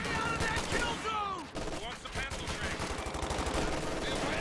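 MG42 machine gun fire in Company of Heroes 2, rapid bursts of automatic gunfire with whistling shell sounds, dense and continuous battle noise under a fast-talking game commentator.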